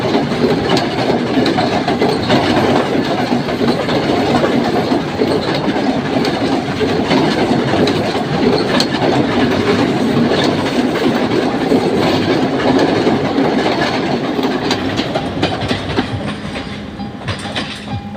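M5 German-built diesel locomotive hauling a passenger train near Narangala, a steady loud rumble of engine and rolling wagons with continuous clickety-clack from the wheels, fading slightly at the end.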